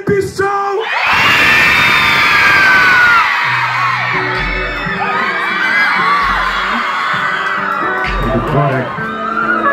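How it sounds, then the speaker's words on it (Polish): At an outdoor rap concert in Opole, a crowd of girls lets out loud, sustained high-pitched screaming. A thumping bass beat comes in under the shrieks partway through. "Dziewczyny piszczą!"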